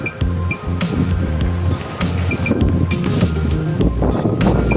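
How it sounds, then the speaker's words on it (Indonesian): Strong wind buffeting the microphone during an outdoor bike ride near small islands in light drizzle, a loud, continuous rumbling roar with scattered clicks and knocks. "Ini anginnya kencang kali nih, coba lihat nih anginnya."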